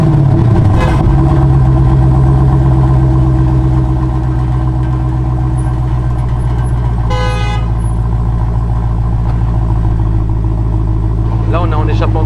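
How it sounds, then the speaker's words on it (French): A stock-exhaust 700 hp car engine fires up with a loud burst, then settles into a heavy, steady idle rumble that continues throughout, with a brief sharper rev or horn-like blip midway. "On va la démarrer maintenant pour entendre le fameux bruit"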